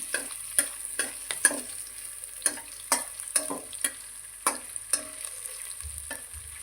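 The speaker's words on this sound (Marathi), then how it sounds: "आलं आणि लसणाचं वाटण साधारण दोन मिरच्या हे छान आपण तुपात फ्राय करून घेऊया" Ginger garlic paste and chillies fry in ghee with a soft steady sizzle, while sharp scrapes of a spoon stirring the pan recur every half second or so, close and without talk.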